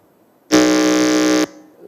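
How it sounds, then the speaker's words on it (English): A quiz-competition buzzer is tested with one loud, steady electronic tone lasting about a second, alone and close, then cut off abruptly. "Let's check our buzzers."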